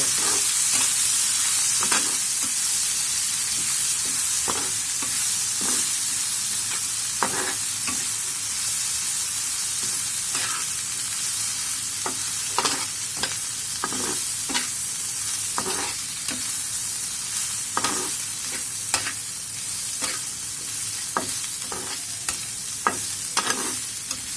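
Loitta dried fish frying in oil in a pan, a loud, steady sizzle with repeated sharp scrapes and knocks of stirring throughout.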